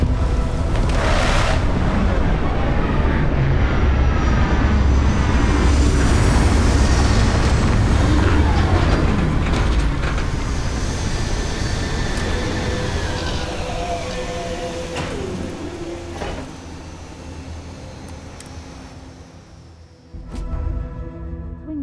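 A spaceship lands in the game Starfield with a loud, heavy rumbling roar of engines and thrusters that swells and then slowly fades, followed by a few mechanical clunks and a final thud as the craft settles.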